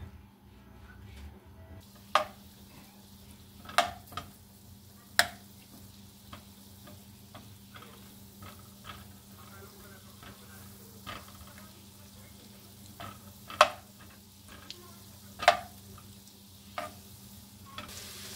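Butter melting and garlic sizzling softly in a pan as it is sautéed, a quiet steady fry under scattered sharp utensil clicks and taps, near and without talk.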